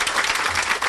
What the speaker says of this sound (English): Would you please give another round of applause and thanks to Governor John Corzine